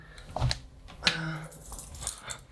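Keys jangling on a keyring held with a Key Smart organizer, brief close metallic clinks and rattles in a few bursts, no talk.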